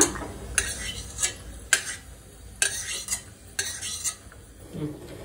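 Roasted raisins and cashews are scraped out of a pan into another bowl while making wheat halwa, giving a series of sharp metallic spoon clinks and scrapes with faint sizzling between them.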